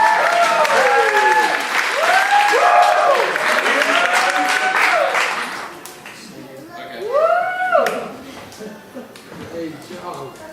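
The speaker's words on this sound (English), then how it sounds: "how about everybody give a big round of applause for Justin" Audience applause at a magic show for a volunteer named Justin, a loud sustained burst of clapping that thins partway through as a voice speaks over it, with light chuckling.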